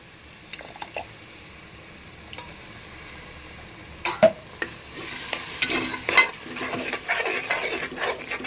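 Thick curd is poured into chicken biryani masala with leg pieces and stirred, giving soft wet stirring and a light sizzle that builds in the second half with scattered scraping clinks of the spoon.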